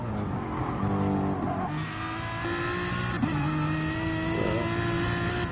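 Race car engine in a sim racing game revving and shifting through gears on the Nürburgring GP circuit, with brief tire squeal, loud and continuous throughout.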